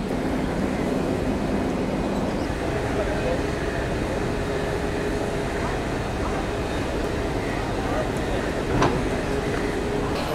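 A Sealdah-based WAP 7 electric locomotive rolls in to couple onto an express train at a station, a steady low rumble and hum held throughout over busy platform noise, with a person talking nearby.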